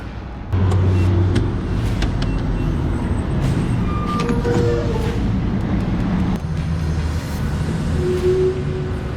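Loud full exhaust with Corsa and Kooks parts rumbles close and steady on a cold day, a continuous deep throaty drone with brief revving swells and no talk over it.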